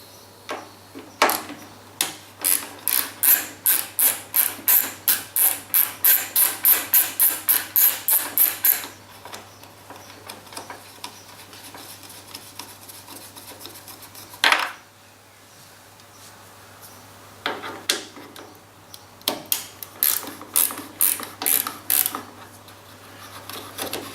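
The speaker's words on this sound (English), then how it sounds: "We now need to remove this cap screw and this cap screw, both 5mm." A tool loosens two 5mm cap screws on a Suzuki GSX-S1000, giving a fast, regular run of crisp, close clicks for about eight seconds, a pause with a single knock, then another clicking run near the end.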